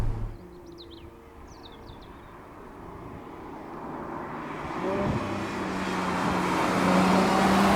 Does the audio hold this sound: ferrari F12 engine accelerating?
yes